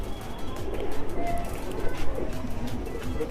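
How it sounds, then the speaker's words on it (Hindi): Pigeons coo softly inside a large pigeon loft, low murmuring calls layered with a steady indoor hum and faint bird chirps, moderately close throughout. "आपको कबूतर दिखाएंगे।"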